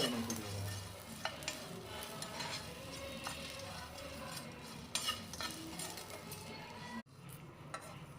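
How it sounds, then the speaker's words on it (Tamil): Spices and curry leaves for a spicy mutton pepper fry are dry-sautéed and stirred in a pan, a steady close scraping and rustling with soft sizzle and occasional clinks of the utensil against the pan, no talking. "இதில் எல்லாத்தையும் ஒன்றா போட்டு பேனில் வந்து லைட்டாக வதக்கிக்கலாம்"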